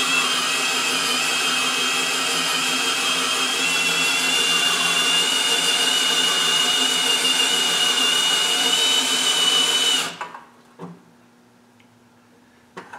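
A hand drill spins a Lisle 15000 hone inside the cylinder of a 12 HP Briggs engine, giving a steady, loud whirring grind with a faint tonal whine for about ten seconds, then stopping abruptly, leaving near silence with small clicks.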